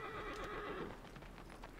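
A horse in Shadow of the Colossus whinnies loudly near the start, followed by a few soft hoof clops over a low, steady game background, with no talking.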